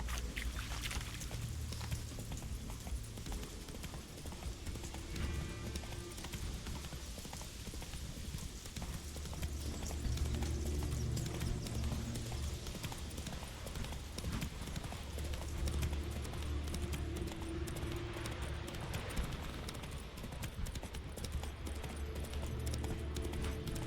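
Roach the horse clip-clops steadily through The Witcher 3, hoofbeats close and continuous across the whole stretch over a low game soundscape.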